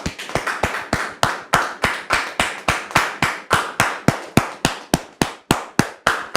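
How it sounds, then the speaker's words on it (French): Rhythmic applause at a church gathering welcoming a guest, with sharp, evenly spaced claps that sound like one or a few people clapping in unison, loud and close, with no talking. "vous demander de lui donner un accueil chaleureux en le recevant avec beaucoup d'applaudissements"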